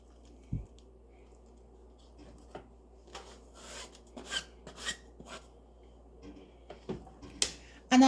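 Chopped onions, garlic and jerk seasoning rubbed together by hand, giving soft wet rasping and squishing bursts that come in irregular strokes, close and fairly quiet.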